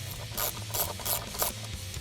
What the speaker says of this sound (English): Now use an 8mm socket to remove the coil themselves.